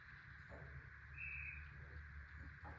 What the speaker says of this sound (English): Still got a bird listening into the programming.